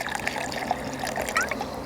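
Red wine poured into a roasting pan for gravy, a soft steady trickle and splash of liquid heard close but faint, lasting a couple of seconds.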